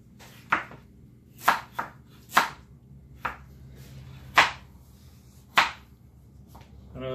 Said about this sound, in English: I know this is a lot of us chopping.